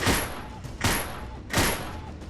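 Gunfire from shooting enemies in GUNCLUB VR, three evenly spaced sharp shots roughly three-quarters of a second apart, each with a brief ringing tail, close and punchy.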